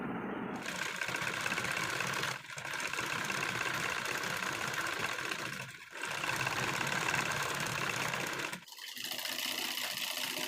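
A sewing machine runs steadily while stitching a folded half-inch hem along fabric from end to end, with a continuous loud mechanical whir broken by three short pauses.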